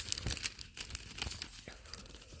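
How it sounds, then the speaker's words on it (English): A crocheted yarn piece tearing slightly as it is pulled and tested, a soft close crackling rip with crinkly fibrous texture at low volume. "Ooh, see, it does kind of rip a little bit."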